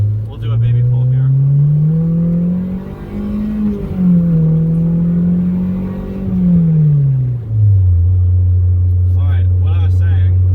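A Honda Insight swapped with a K20Z1 engine pulls hard through the gears, its loud in-cabin drone rising in pitch, dipping briefly at the shifts, then settling lower, with talk over parts of it.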